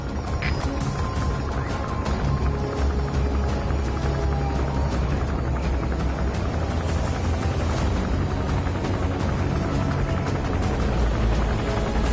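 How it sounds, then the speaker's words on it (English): An enemy gunship helicopter in Metal Gear Solid V: The Phantom Pain roars steadily and loudly throughout, its dense rotor and engine drone mixed with game music and action noise. "That's an enemy gunship."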